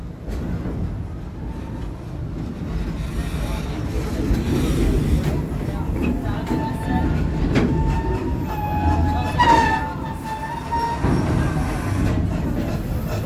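Serengeti Express train ride at Busch Gardens Tampa, heard from aboard as a continuous rolling rumble of railcars with rhythmic wheel clatter and brief squeals, a voice talking faintly beneath.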